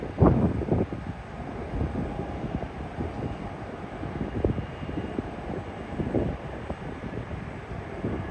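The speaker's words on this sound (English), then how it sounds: "Air New Zealand coming in" An Air New Zealand Boeing 777 arriving at Auckland Airport, heard as a low, distant jet rumble that holds steady throughout, mixed with wind buffeting on the microphone and scattered nearby bumps.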